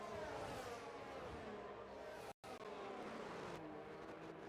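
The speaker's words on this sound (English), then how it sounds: "See how quick the safety car can go down this main straight" Safety car speeding down the main straight of the Azerbaijan GP in F1 23, a steady loud engine drone with a brief cut partway through.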